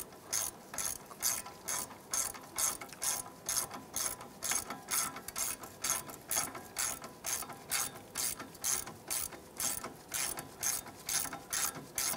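A hand ratchet snugs down the ABS bracket bolt on a 2001-2007 Ford Escape during a strut assembly replacement, producing a long, even train of rapid clicking bursts, close and clear with no talking.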